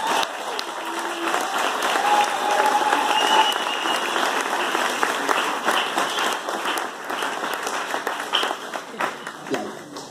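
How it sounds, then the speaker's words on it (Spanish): Church congregation applauding at a special youth service, a sustained crowd of clapping hands at moderate distance, thinning and becoming more scattered toward the end. "Vamos a darles un fuerte aplauso."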